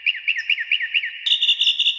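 A small bird chirps in quick repeated whistled notes, a steady run of bright twitters that shifts to a higher, denser trill partway through, close and clear.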